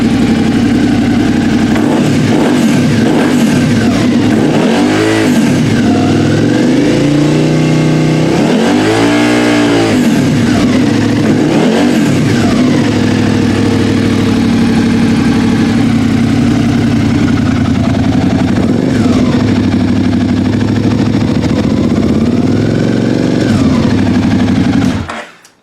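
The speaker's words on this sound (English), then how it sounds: "Still hear some engine noise, but definitely hear the exhaust." A 2013 Suzuki Gladius motorcycle fitted with an aftermarket exhaust, idling loudly up close and revving repeatedly in sweeping bursts, with engine noise mixed under a prominent exhaust note, running continuously before cutting out.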